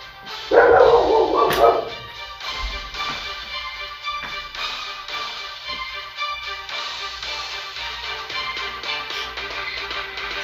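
A small pet dog barks in a short loud burst of several yaps near the start, then goes quiet while a steady room background continues.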